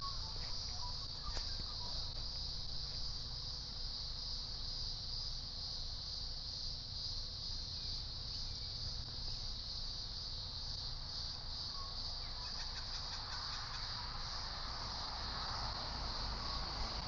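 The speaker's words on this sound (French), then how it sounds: "le bruit des cigales australiennes." A steady, dense, high-pitched buzzing drone of many Australian cicadas in Melbourne, continuous and loud throughout, with a faint rumble underneath.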